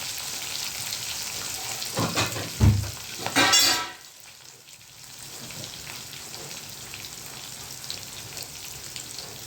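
Spices tempering in hot oil in a pan sizzle and crackle, with a brief louder burst of hissing as a little water is added, then settle into a quieter steady frying hiss; no talking.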